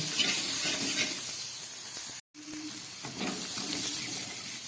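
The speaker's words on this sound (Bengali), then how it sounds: "খুব ভালো করে এটাকে আমি ভেজে নেব" Boiled pumpkin with turmeric frying in a pan gives a steady, close sizzle and hiss that cuts out for a moment, then carries on.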